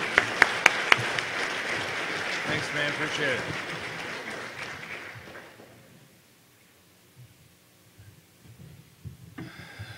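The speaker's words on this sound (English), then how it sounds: "let's give a big round of applause for Simple" Conference audience at a security talk applauds loudly for several seconds, the clapping fading out midway as someone briefly says thanks, followed by quieter room noise.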